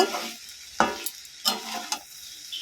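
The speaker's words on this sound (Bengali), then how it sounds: "তরকারিটাকে খুব ভালো করে নাড়াচাড়া করব।" Mixed vegetable curry being stirred in a pan, with several distinct scraping strokes of a spatula over a soft background sizzle, close and loud.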